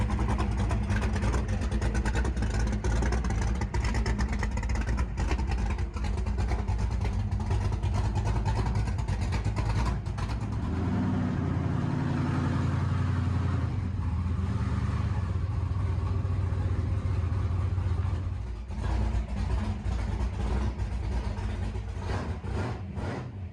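A Ford Falcon's engine runs and idles with a loud, steady, continuous rumble throughout, easing slightly in tone partway through.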